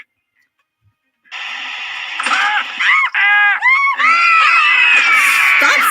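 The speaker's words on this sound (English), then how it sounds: "Stop screaming!" A person screams loudly and continuously in a wavering, pitch-bending cry that starts abruptly after a second of silence, in an animated scene where characters sneak up to capture someone.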